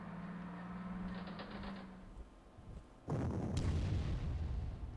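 Artillery fire in the Panzer Corps wartime strategy game: a quiet mechanical hum and clatter, then an abrupt loud blast partway through followed by a rumbling sustained impact.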